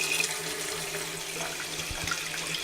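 Tap water runs steadily into a tea kettle being filled for coffee, a continuous rushing splash heard up close with no talking.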